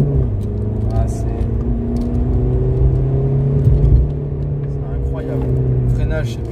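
Volkswagen 4Motion car accelerating, heard from the interior as a steady engine drone and rising whir, loud and continuous, with a person talking over it.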